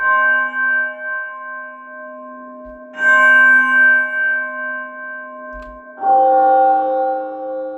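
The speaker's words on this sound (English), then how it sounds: "We could use it as a church bell to spice our track up." Three struck, bell-like synthetic tones ring out one after another, each sustaining with a long, bright decay like a church bell.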